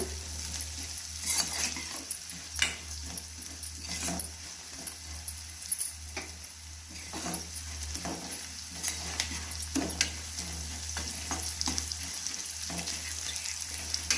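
Vermicelli frying in a pan for shavige upma, a steady broadband sizzle with scattered scraping and stirring clicks, close and continuous with no talk.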